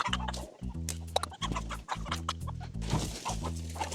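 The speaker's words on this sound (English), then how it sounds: "this region is famous for its Hetian chickens" Hetian chickens clucking repeatedly in short, loud, rhythmic bursts close by, with scattered farmyard noise between calls.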